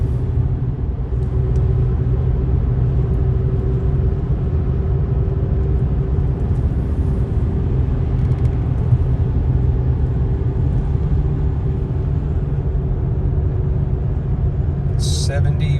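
A vintage car cruises along southern Indiana roads with a steady low engine rumble and road noise filling the cabin, close and constant throughout.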